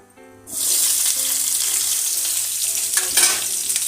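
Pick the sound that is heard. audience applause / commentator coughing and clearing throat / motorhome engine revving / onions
onions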